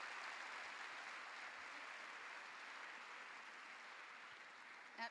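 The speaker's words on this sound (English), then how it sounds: "once again, big round of applause" A conference audience claps in a sustained, even wash of applause that stays fairly quiet and distant throughout, ending with a small bump of noise.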